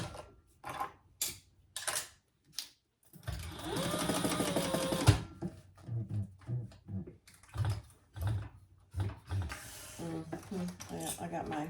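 Short bursts of a sewing machine basting a leather waist pack, one longer run in the middle among choppy stop-start stitching and handling clatter, with a person talking in between.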